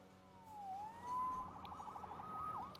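Police sirens wail in the Spider-Man Remastered video game, with rising and falling electronic tones sweeping over a low city rumble and growing louder partway through. No one speaks.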